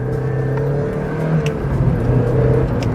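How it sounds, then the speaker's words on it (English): A 1998 Mazda MX-5 NB with six-speed manual revving while driving, a loud steady engine drone with rising pitch and a few gear-related shifts, close-up inside the car with no talking. "The engine is so quick to rev."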